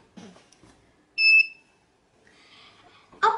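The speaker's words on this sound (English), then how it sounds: "he is hearing the beep, and that means there is an obstacle" A single short, sharp electronic beep from a smart shoe for blind people, warning of an obstacle, rings out clearly in otherwise quiet surroundings, with a few faint rustles before and after.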